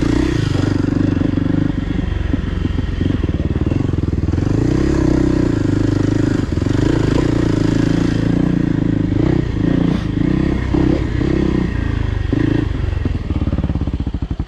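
A Kawasaki KLX300R dirt bike rides hard trails, its engine droning loud and close throughout, with shifting revs plus clatter and scraping from the rough terrain.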